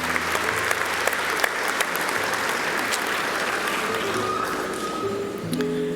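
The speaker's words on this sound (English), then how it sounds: "Please applaud our graduates of the Accounting Management Technology program and that of Computer Science." Sustained applause from an audience honoring Accounting Management Technology and Computer Science graduates at the 2019 CÉGEP Heritage College graduation ceremony, steady dense clapping filling the hall throughout.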